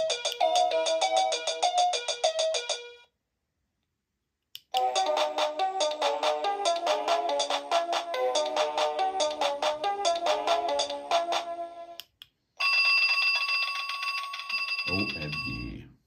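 A Heidemann 70823 wireless doorbell plays several different electronic chime melodies in turn, bright and tonal, separated by short pauses, the last one cut off abruptly.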